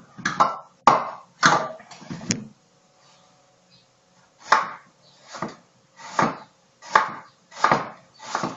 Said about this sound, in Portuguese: e vou cortar um pouco de cebola.